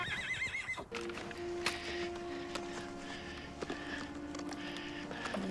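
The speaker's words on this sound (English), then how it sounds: "Someone has a horse?" A horse whinnies loudly in a war drama scene, then hooves clip-clop along steadily with outdoor ambience behind.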